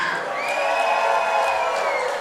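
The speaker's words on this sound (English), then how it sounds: "Crowd fired up." Crowd at an American Excellence Wrestling event in Orwigsburg cheers loudly and steadily, with whoops and a high sustained shout riding over the dense roar.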